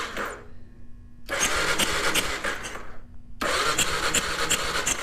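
Kawasaki KLR650 motorcycle that sat for four years being turned over, giving two loud bursts of rapid cranking chug separated by a pause, close by with no talk.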